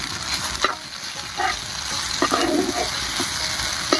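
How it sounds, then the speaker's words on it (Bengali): Poppy seed and mustard paste gets stirred in a pan with green chillies for an egg masala curry, giving a steady sizzle with intermittent scraping strokes of a spoon. "এবার সবকিছুর সঙ্গে ভালো করে মিশিয়ে নেব"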